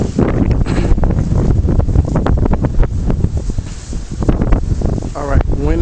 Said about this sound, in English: wind is blowing more than necessary